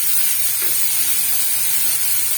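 Onions fry in hot oil with cumin and a bay leaf for chicken biryani, giving a continuous dense hiss and sizzle, steady and close with no talking.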